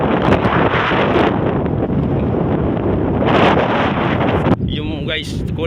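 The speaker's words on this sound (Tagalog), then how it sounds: "Lawak, mahangin dito guys." Strong wind buffeting the microphone outdoors near open water in Gainza, Camarines Sur, loud continuous roaring gusts with a brief voice near the end.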